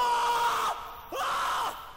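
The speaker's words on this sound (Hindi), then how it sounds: "अबे क्या हुआ था? अबे चिल्ला क्यों रहा था?" A man screams twice, a sustained strained yell followed by a short pause and a second rising cry, close and loud with no other sounds.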